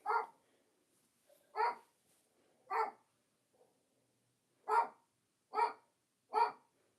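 A man imitates a big dog barking at the door, giving seven short gruff woof-like barks spaced irregularly, close and fairly loud, with near silence between them.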